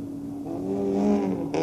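A rally car revs hard on a special stage at the 1995 Barbórka rally in a stadium setting, its engine note climbing steadily and loud before a sudden burst of noise at the end.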